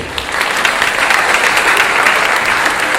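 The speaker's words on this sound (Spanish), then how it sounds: "para quien también solicito un fuerte aplauso" A conference audience gives steady, dense applause that fills the room from start to finish at an even level, at a closing session on the right to the city and Habitat III.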